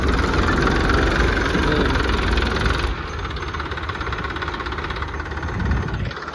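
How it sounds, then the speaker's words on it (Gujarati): A tractor engine on a salt farm runs steadily close by, a throbbing, loud drone that drops in level about halfway through and keeps going, with no talking. "અમારે તો બેઠી ગયા ટ્રેક્ટરમાં."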